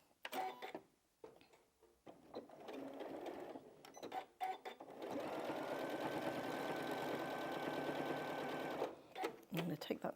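A sewing machine stitches scrap-fabric quilt binding, with a few short stop-start bursts for backstitching followed by a steady, close run of rapid stitching lasting several seconds, surrounded by quiet handling noises.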